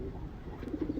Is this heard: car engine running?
no